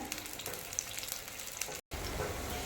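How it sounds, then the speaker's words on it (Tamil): Steady, dense sizzling of onions frying in hot oil for a fish curry, close and continuous, with a brief dropout near the end before the crackle resumes. "இப்போ வெங்காயம் நல்லா வதங்கட்டுங்க."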